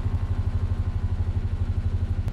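Small moped engine in a Minecraft game, a steady low putter with a fast regular pulsing chug, close and alone with no talk.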